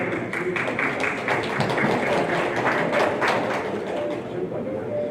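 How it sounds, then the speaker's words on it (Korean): Audience applause at a Korean startup and blockchain conference welcoming a stand-in professor to the stage, a steady wash of many hands clapping for several seconds. "윤명 교수님의 큰 박수로 모실게요"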